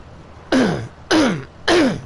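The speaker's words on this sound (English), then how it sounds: "coughing down the mic like that" Three harsh coughs or throat-clearing bursts come close into a microphone, evenly spaced and loud, each with a descending rasp and no talking.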